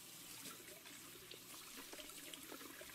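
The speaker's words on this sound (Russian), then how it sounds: "А, звук смыва есть." A toilet flushes in the Toilet Management Simulator video game: a steady, moderately quiet rush and trickle of water that carries on evenly, with no talking over it.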